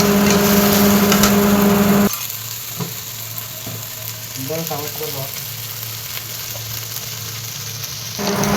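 Spices, onion and garlic for a crab curry sizzle loudly in hot oil, a bright burst of frying that settles into a steady, softer sizzle with occasional stirring, and the loud sizzle surges again near the end.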